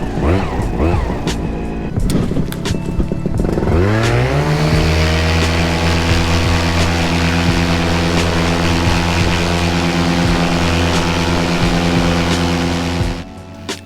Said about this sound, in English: So a bit of a long takeoff.